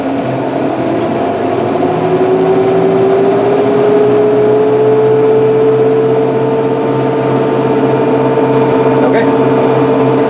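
A tractor engine drones steadily with a brush hog engaged on the PTO. Its pitch climbs smoothly as the RPMs rise, then holds as one loud, continuous mechanical hum.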